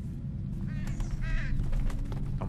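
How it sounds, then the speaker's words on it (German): A bird in the horror game Condemned: Criminal Origins gives a couple of harsh, crow-like caws over a constant low rumbling ambience, fairly close and clear. "Haben wir wieder einen Vogel?"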